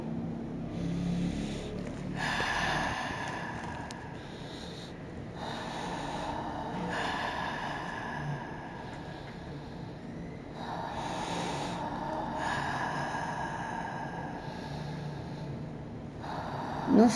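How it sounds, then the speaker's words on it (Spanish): Slow, deep breaths drawn and released in a calm guided relaxation session, each long inhale and exhale forming a soft broad rush of air that rises and falls in a steady rhythm, close and alone. "mientras respiras profundamente"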